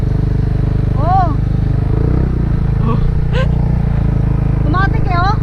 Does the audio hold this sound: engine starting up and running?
yes